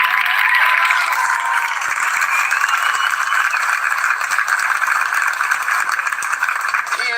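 Dense, sustained applause from a large crowd gathered for a speech, steady and loud throughout with no voices rising above it.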